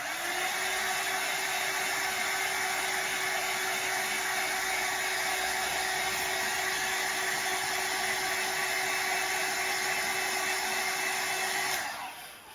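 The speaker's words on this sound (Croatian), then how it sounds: "možete proces ubrzati tako što uzmete fen." A hand-held hair dryer blows hot air over freshly glued table tennis rubbers, a loud, steady, close whir lasting about twelve seconds before cutting off abruptly.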